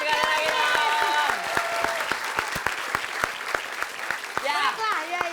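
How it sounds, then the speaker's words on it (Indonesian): Audience applause at a live Indonesian comedy and variety show, a dense burst of clapping that runs throughout, loudest at the start, with a crowd murmuring and talking underneath. "kita Tepuk tangan sekali lagi dong."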